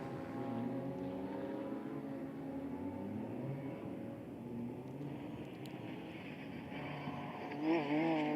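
Euroseries racing car engines droning steadily at Paul Ricard circuit in France, a continuous loud motor roar with shifting pitch throughout and a brief rise near the end.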